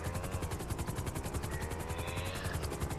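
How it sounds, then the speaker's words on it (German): A helicopter landing in GTA V Online, with a close, loud rotor chop beating in a fast, even rhythm throughout. "Kriegt doch keiner mit, dass hier ein Helikopter landet."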